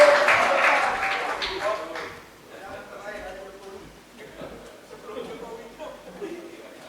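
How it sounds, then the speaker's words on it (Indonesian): Audience applause following a speech at a student and public-figure rally protesting a disaster, starting loud and dense, then thinning and fading to scattered claps under crowd noise. "boleh kita tepuk tangan sekali lagi untuk Bapak Said Didu"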